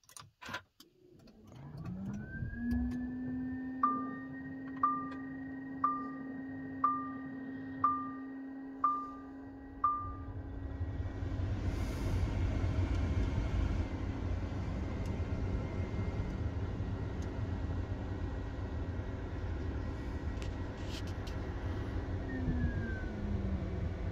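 Lamborghini Aventador SV-J in matte silver starts up: a starter whir, then the V12 catches and settles into a steady, loud idle, with repeated chime-like ticks early on and hydraulic hums.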